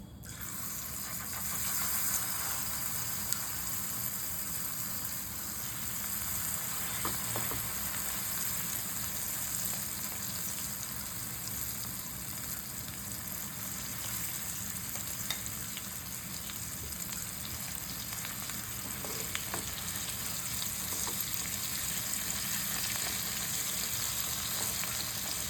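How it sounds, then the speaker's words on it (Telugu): Gongura pickle frying in hot oil while being stirred, a steady close sizzle that keeps going throughout with faint scraping and no voices. "ఇప్పుడు మనము ఈ ఆయిల్లో ఈ గోంగూర పచ్చడిని వేసుకొని కలుపుకుందాం."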